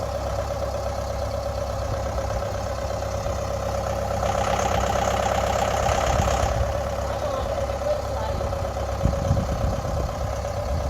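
A tractor engine straining uphill with a heavy load drones steadily close by for the whole stretch, rising to a harsher, louder labored tone midway, with some thumps near the end.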